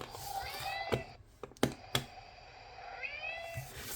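A cat meows nearby, with several rising and falling calls at the start and again near the end, mixed with a few sharp clicks and taps in a quiet room.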